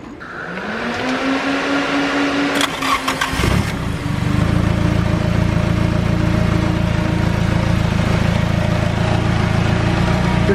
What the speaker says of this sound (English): Your catch can's rattling all over the place.